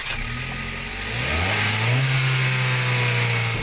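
A 2012 Hyundai Veloster's small 1.6-liter engine revs up, its pitch climbing steadily over a couple of seconds and then holding high, loud and close, with no talking.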